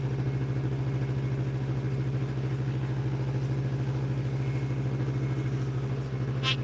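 A wood lathe spins a cherry wood bowl at 4,000 RPM, giving a loud, steady, close hum and rumble with a faint rattle underneath. It runs unchanged throughout, with no talking.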